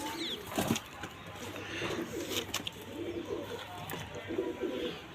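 Pigeons coo softly in low, repeated murmurs, with a few wing flaps and faint background noise throughout.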